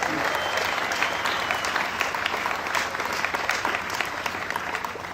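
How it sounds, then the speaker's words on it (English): Dense, sustained crowd applause at an outdoor AIDS Walk 2015 speech, many hands clapping loudly and evenly for several seconds with no voices over it. "Let's give him a round of applause."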